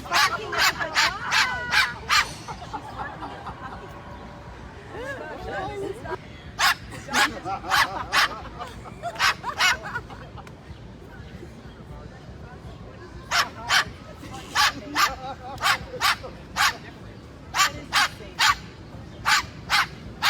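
A pet bird imitates a dog's barking, sharp bark-like calls in quick bursts repeated several times, loud and close, with a person talking in between the bursts.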